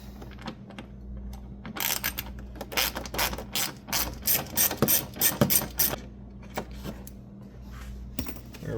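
A ratcheting driver clicks rapidly in several short bursts while backing out a T20 screw from the armrest switch panel of a 2003–2006 GMT800 Silverado-family truck, close and clear with no talking.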